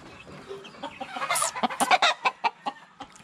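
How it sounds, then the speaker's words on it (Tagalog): A large, tough gamefowl rooster clucking up close, a quick burst of sharp, rhythmic clucks rising and then easing off over a few seconds against a quiet background. "Ay, malaking manok."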